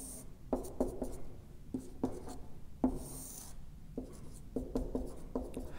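Soft, close scratching of a pen on paper while sketching the graph of an exponential function, short irregular bursts of strokes separated by brief pauses, faint and with no speech.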